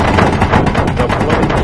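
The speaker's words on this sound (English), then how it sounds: "But I want those guns to shoot" Turret guns firing in Space Engineers, a loud, close, rapid burst of automatic gunfire with dense overlapping shots throughout, no talking.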